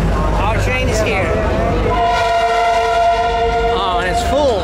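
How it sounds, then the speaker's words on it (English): A passenger train pulls into a railway station in Sri Lanka, its long sustained horn blaring loud and close for several seconds amid crowd noise and rumble, with people talking around it. "Our train is here."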